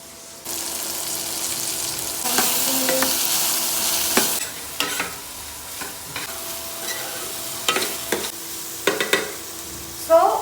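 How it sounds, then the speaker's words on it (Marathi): Okra tempered in hot oil on a cooktop, a burst of loud sizzling that settles into steady frying, broken by scraping stirs and occasional spatters. "पटकन भेंडीच्या भाजीला फोडणी देऊन घेते"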